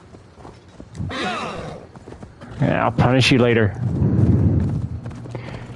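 Horse hooves clip-clop in the Assassin's Creed Valhalla video game, steady and moderately close, with someone talking loudly over them in bursts.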